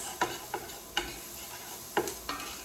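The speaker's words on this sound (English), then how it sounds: "I've got onions going and those spices" Onions and ground spices such as ginger sautéing in a pan for squash and potato soup, a soft sizzle broken by five sharp spoon stirs and scrapes at an uneven pace.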